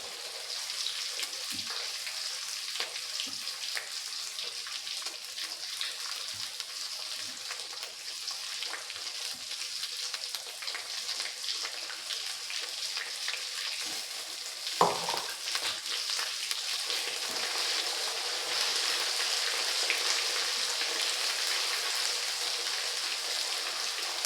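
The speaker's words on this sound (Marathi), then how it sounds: "मासवडी रसासाठी कांदा लसूण फ्राय करून घेते" Chopped onion and garlic sizzle in hot oil in a pan for masvadi curry, a steady, close, unbroken hiss with a brief clatter of a utensil midway.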